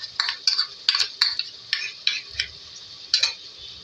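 A spoon works green chili paste into beef kofta masala in a pot, producing a run of irregular close metallic scrapes and clinks over a faint background sizzle.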